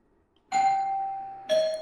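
An original house doorbell chime connected to a Reolink PoE doorbell sounds through an Alexa routine, giving a clear two-tone ding-dong with a sustained first note, alone in a quiet room.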